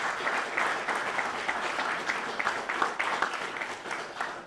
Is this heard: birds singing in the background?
no